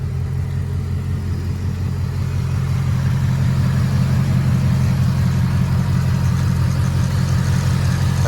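A 2024 Ford Mustang S650 engine idling just after an oil change, a steady low rumble with a constant hum that holds even and close with no revving and no voices.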